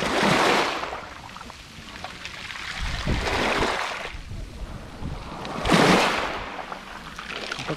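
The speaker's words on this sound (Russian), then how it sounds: "Море просто так слегка-слегка шепчет." Gentle waves on a calm Black Sea beach wash in and recede in slow surges, two broad swells rising and fading, with soft wind noise on the microphone between them.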